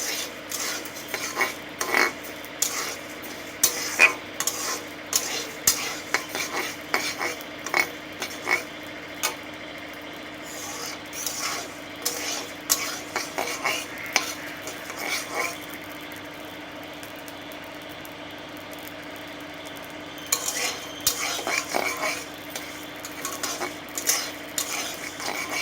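Rice grains being stirred and fried in a pan over a raised gas flame, for village-style Vishwakarma puja prasad bhaudo; steady scraping, clinking strokes of a utensil against the pan over a soft sizzle, continuing with a short lull midway.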